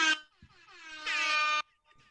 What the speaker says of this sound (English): Any chance to use the air horn?